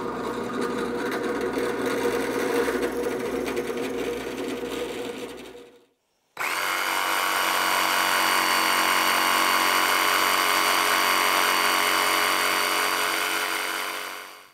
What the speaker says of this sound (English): all I'm going to do is drill the end holes and cut it out with the jigsaw